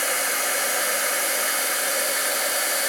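A heat dryer blows steadily while melting embossing powder for card making, giving a constant, close, even hiss-like whoosh with no breaks.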